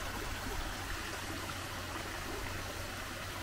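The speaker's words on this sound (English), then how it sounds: "Even the waterfall, look at this." A small waterfall spills into a pond at St Annes, a steady, even trickle and splash running throughout at low level, with no talk over it.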